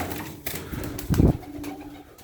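White Adana pigeons flap their wings, with soft cooing and scattered rustles building to one short, loud burst of flapping nearby.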